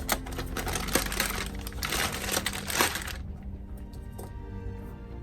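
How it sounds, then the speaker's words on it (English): Plastic packaging crinkles and crackles loudly as JConcepts Fling King mud RC tires and wheels are unwrapped, in close, busy bursts for about three seconds before fading to quieter handling. "let me get removing it from the plastic and show you how it goes"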